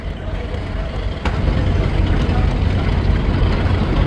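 A Dolpakhi 10 passenger launch out of Sadarghat, bound for Ilisha in Bhola, turns with its engine giving a steady loud low rumble that grows heavier after about a second, over a noisy background.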